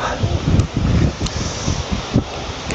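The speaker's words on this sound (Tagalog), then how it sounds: "Ang lakas ng hangin, ang sarap." Strong wind buffets the microphone in heavy low rumbling gusts, steady and close, with occasional sharper bursts.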